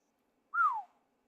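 A person whistles at a hole in the ground: one short, clear whistled note that rises briefly and then glides downward, heard alone against near silence.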